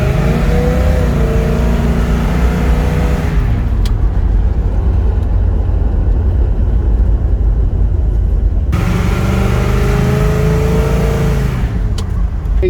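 A 1969 Chevrolet Chevelle SS396 pulls hard under acceleration, its loud, deep engine roar steady throughout, dipping briefly in the middle before climbing again, with no talk over it.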